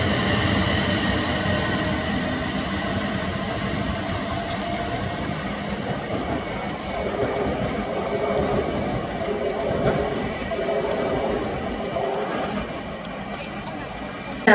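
A train passing through Stafford station on the West Coast Main Line, a steady rumbling roar of wheels and rails that stays loud for the whole stretch, with faint station ambience and no clear voices over it.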